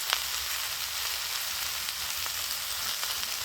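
Flat beans and eggplant frying in a pan with turmeric and salt give a steady, dense, close sizzle that hisses evenly throughout with faint crackles and no voices.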